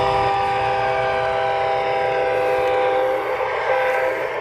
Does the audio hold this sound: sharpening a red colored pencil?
no